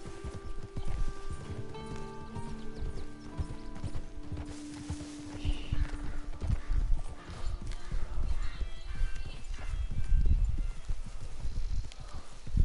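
Hooves clop steadily from a horse in Red Dead Redemption 2, a muffled rhythmic thudding in the foreground, with a brief whinny partway through and faint game ambience beneath.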